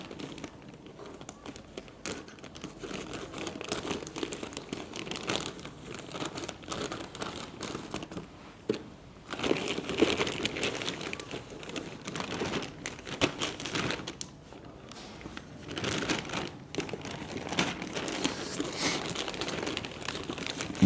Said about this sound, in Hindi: इसको मैं कैंची के साथ जो है वो काटता हूँ।